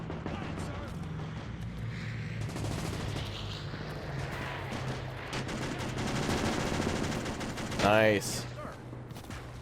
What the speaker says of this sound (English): BAR is firing up like Christmas trees over here.